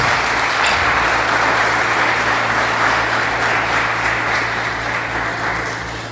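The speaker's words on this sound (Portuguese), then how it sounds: "Você pode aplaudir ao Senhor?" A church congregation applauds a pastor, sustained dense clapping that stays steady and loud throughout, with a low hum underneath and a slight fade toward the end.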